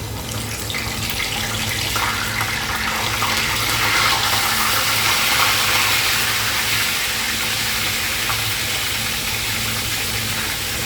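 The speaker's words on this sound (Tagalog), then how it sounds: "Mainit na yung mantika, so pwede na natin ilagay yung fish." Fish frying in hot cooking oil during home cooking gives a loud, steady crackling sizzle that fills the whole stretch without a break, with a faint low hum underneath.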